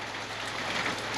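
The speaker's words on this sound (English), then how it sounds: "Raining to beat all heck." Heavy rain falls steadily on a snowy mountain as darkness comes on, a dense, continuous hiss that fills the clip with no voices.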